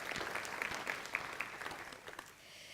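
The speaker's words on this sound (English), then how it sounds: "let's give her one more round of applause" Conference audience applauding a keynote at a public policy event, a fairly faint, steady patter of many hands that tapers off toward the end, with no one speaking over it.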